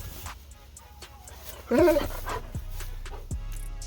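A dog whimpers and yelps in a short burst near the middle, close by, with a few sharp barks or yips around it over low background noise and a voice.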